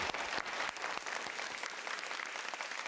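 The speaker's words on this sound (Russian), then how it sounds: "Ему аплодисменты." An audience claps steadily throughout, a dense, even patter of many hands at moderate loudness from start to finish, with no voices over it.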